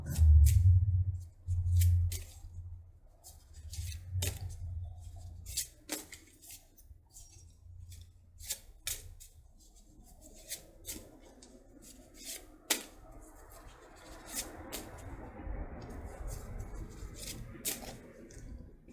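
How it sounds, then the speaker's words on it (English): Cards are shuffled repeatedly: crisp rapid riffling and snapping clicks in quick bursts, close up, over a soft low rumble early on. "I'm getting the signal to keep shuffling for just a little while longer."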